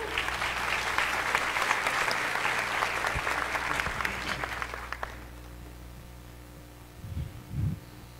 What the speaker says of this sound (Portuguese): Uma salva de palmas para o Dr. Quirino.